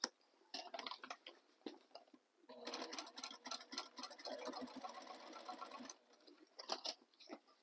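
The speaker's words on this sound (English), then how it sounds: "back stitch at start and stop and then top stitch the entire way around" Sewing machine topstitching around a tote bag, with short starts and back-stitch bursts, then a steady run of about three seconds, then more stop-start stitching; close and quiet.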